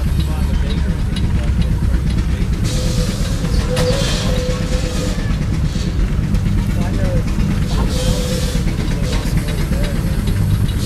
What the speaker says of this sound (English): it is a 65 horsepower case engine built in Racine, Wisconsin by the J.I. Case Thrashing Machine Company